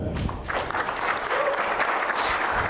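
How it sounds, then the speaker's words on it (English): Steady, dense applause from a room full of people, clapping continuously at an even level throughout. "Round of applause for Tristan."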